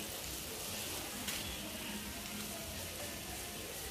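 Chicken sautés in soy and oyster sauce on a griddle, giving a faint, continuous sizzle with soft bubbling and a brief scrape partway through.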